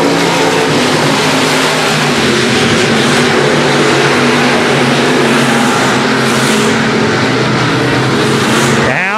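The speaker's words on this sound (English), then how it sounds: "Boy, good run here in stock car heat race number 3." Stock cars roar around the Nobles County Speedway track during an Iron Man stock car heat race, a loud, continuous engine drone that swells and fades as the pack passes close by.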